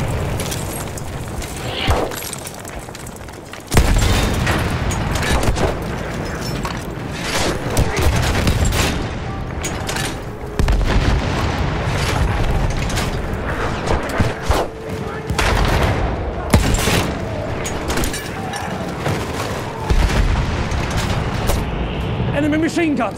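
Dense machine-gun fire and heavy explosions rumble through a Battlefield 1 multiplayer battle, with bursts of gunfire and booms continuing loud and near throughout, punctuated by sharp blasts.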